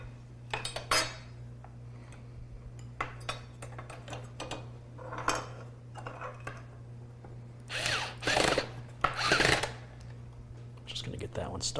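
Screws being driven into an Ncase M1 mini-ITX computer case during a build, giving a scatter of small metallic clicks and scraping taps with louder rattling bursts near the end, over a steady low hum in a quiet room.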